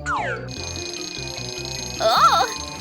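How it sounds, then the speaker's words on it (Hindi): In an animated cartoon, an alarm blares in a repeating electronic pattern of pulsing tones, with a rising siren-like warble near the end, loud and alone. "चलो अलार्म लगाएं।"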